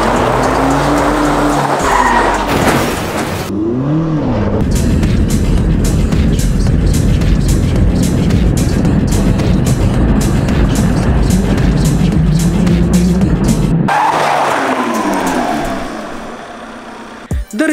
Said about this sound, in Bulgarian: Да речем, че това беше презавиване.